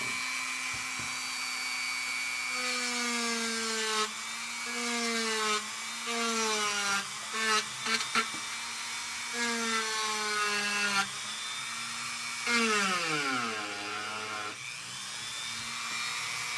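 Rotary power tool carving a fabric printing block, whining in repeated bursts that rise and fall in pitch as it starts, runs and slows, close and fairly loud.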